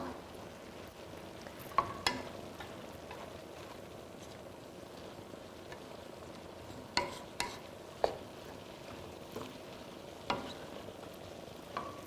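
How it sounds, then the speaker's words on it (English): Chili stirred in a cooking pot, a quiet simmering hiss broken by scattered spoon clinks and scrapes against the pot. "we are going to give that another stir, get everything going together"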